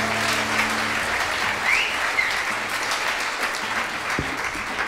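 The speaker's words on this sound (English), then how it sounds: "How about a big, big round of applause for him?" Audience members at a live band show give the sound man a big round of applause, loud and sustained clapping from a crowd throughout, with no talk over it.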